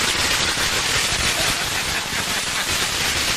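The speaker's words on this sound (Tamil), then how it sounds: "போடுறா வெடிய அப்படின்னு சொல்லிட்டு ஒரு எஃபெக்டோட என்ன எழுப்போம்" Firecrackers set off as a wake-up sound effect, a dense continuous crackle of rapid bursts that stays loud throughout with no gaps.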